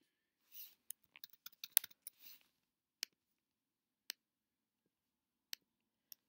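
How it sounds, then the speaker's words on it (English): Typing on a computer keyboard, a quick irregular run of soft clicks followed by a few isolated key taps spaced out, faint and close in a quiet room. "let me type some text"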